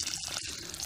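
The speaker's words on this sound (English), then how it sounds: "All right, let's water it then." Water poured onto apple seeds in a video game, a short steady trickle of liquid lasting under a second, fairly quiet and alone with no talk.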